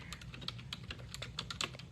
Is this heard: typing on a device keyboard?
yes